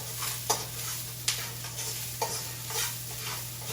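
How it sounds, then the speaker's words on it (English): Day-old rice is stirred in oil with a sturdy spoon in a pan for chicken fried rice, producing a continuous soft sizzle with a few distinct scraping clicks from the spoon; no speech. "have a sturdy spoon to begin to mix this around. You want to make sure all your rice is coated in that oil."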